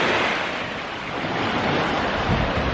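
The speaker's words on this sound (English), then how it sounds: "Listening to the sound of the waves." Ocean waves surge against a jetty on a St Croix beach, producing a close, loud and steady rushing wash with some wind noise on the microphone. No one speaks.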